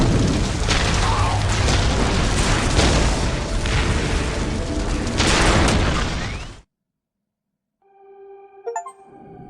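Orbital bombardment in the Dark Crusade strategy video game, a loud roaring blast of rumbling explosions sustained for over six seconds, then cutting abruptly to silence before faint electronic tones.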